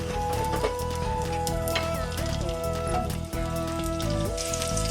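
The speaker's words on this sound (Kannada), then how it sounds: "ಇವಾಗ ಈರುಳ್ಳಿ ಕೆಂಪುಗಾಗಂಗೆ ಹುರ್ಕೋಬೇಕು." Sliced onion fries in a couple of spoons of oil, giving a dense, even crackle like light rain, joined by a held musical tone and some scattered knocks.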